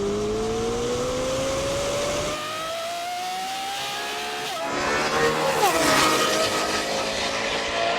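A Lamborghini Temerario and Revuelto launch in a drag race, engine howl rising steadily in pitch, a brief dip at a gearchange, then a louder, harsher surge as the cars pull away, heard from inside.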